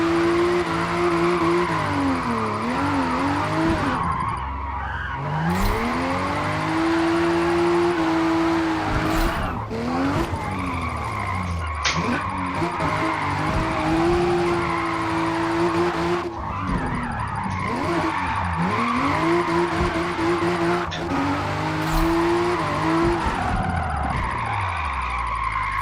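A Toyota GR Supra A90 drifting sideways in third gear in Forza Motorsport, with a loud revving engine rising and falling in repeated cycles over long, continuous tire squeal and skidding, with no talk.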